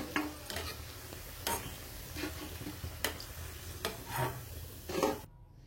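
Papad vadi pieces deep-fry in oil with a soft, low sizzle. Scattered scraping and clinking sounds come from handling the pieces in the pan, and the sound stops abruptly at the end.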